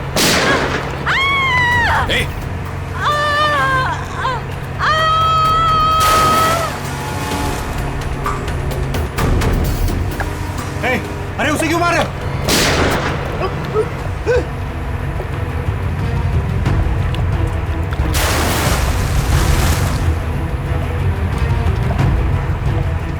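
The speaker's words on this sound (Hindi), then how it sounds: "ये लोग गोलियां क्यों चला रहे हैं?" Sharp bursts of gunfire crack out amid a chaotic scene, with shouting voices, rumbling engines and loud booms mixed throughout.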